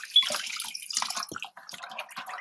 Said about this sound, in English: going to add some more water to all of this